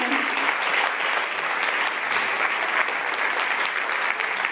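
Continuous audience applause at a school's 100th open house, a full, even roar of many hands clapping that stays loud and unbroken from start to finish.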